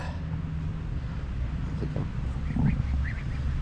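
Black-and-white bitik ducks, an itik and bibi crossbreed, quack in a few short calls over a steady low background hum, moderately close, with no talking.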